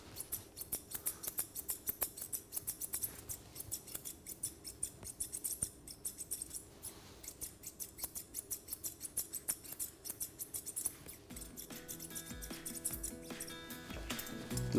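Scissors trimming a cockapoo's coat during grooming, a quiet run of quick repeated snips in an irregular rhythm, close and soft throughout.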